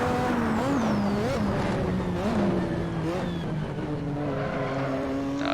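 A Lotus 98T Formula 1 race car engine in the Assetto Corsa racing game screams at high revs, climbing and dropping through quick gear shifts, loud and sustained throughout.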